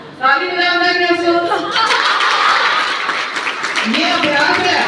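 Group of people clapping hands together during a laughter yoga exercise at an International Yoga Day camp, a dense burst of applause-like clapping mixed with loud laughter and a voice over it.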